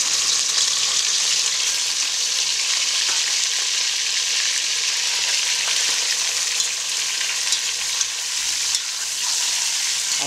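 Meat fries in very hot vegetable oil in a kazan for kuurdak, browning toward a golden crust. A loud, dense, continuous sizzle holds steady throughout with little variation. No one speaks.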